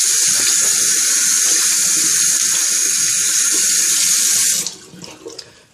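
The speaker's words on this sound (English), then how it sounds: "wash my hands a little bit. They're a little oily." Water gushes loudly and steadily from a bathroom tap while someone washes oily hands, then cuts off near the end, leaving faint drips and movement.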